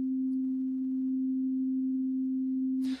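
A pure, simple sine wave tone holds at one steady low-mid pitch for about three seconds, clean and constant, then cuts off abruptly with a brief noisy click at the end.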